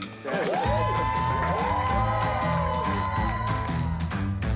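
A crowd at a Tucson bread bakery cheers and whoops loudly on a cue, rising suddenly and holding a dense, continuous roar of voices with high whoops for several seconds.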